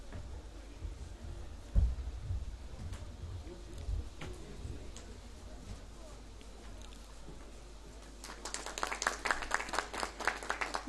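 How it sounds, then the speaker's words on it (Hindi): An audience at a Khelo India Winter Games 2025 ceremony in Gulmarg, Jammu & Kashmir, breaks into loud clapping near the end, following a stretch of quieter background sound and talk. "जोरदार तालियां आप सबकी तरफ से।"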